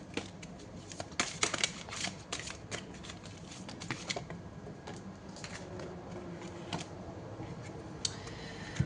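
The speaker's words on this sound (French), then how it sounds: "Allez, je prends une troisième carte de ce joli tarot." A deck of tarot cards is shuffled and a card drawn, giving close, crisp riffling flutters and soft clicks in quick bursts, loudest in the first half and then sparser taps.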